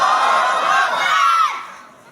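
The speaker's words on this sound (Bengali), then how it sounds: "সবাই জোরে সোরে একটা তাকবীর দিবেন, লিল্লাহি তাকবীর।" A large crowd at a religious gathering shouts the takbir together, one loud, full chorus of many voices that holds for over a second and then fades away.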